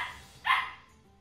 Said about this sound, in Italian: Sentite come abbaia Paolo.